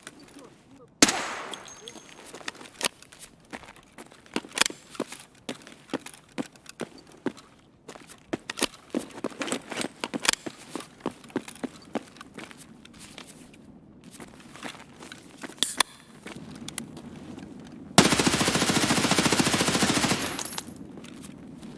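Bursts of MPX submachine gun fire in Escape from Tarkov, rapid sharp shots in scattered clusters with footsteps and rustling between them, ending in a loud sustained burst of noise near the end.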